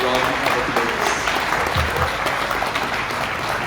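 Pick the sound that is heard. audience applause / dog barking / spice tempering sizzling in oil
audience applause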